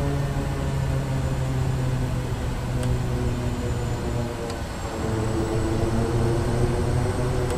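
Turboprop engine of a Twin Otter or Kodiak 100 in Microsoft Flight Simulator spooling up on throttle advance, a steady droning whine with broadband rush, loud and continuous, with a couple of faint clicks.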